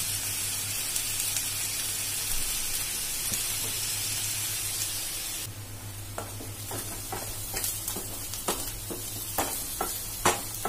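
Onions, finely chopped in a chopper, fry in a pan with a steady hiss and sizzle, then a run of clinks and scrapes as they are stirred, close and without talk.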